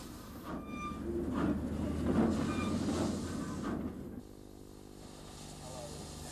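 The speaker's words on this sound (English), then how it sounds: "Here we see one running round her train at North Woolwich." An N7 class 0-6-2 steam tank locomotive runs round its train at North Woolwich station, a rumbling, clattering rail sound that swells and then fades to a quieter, steady hum.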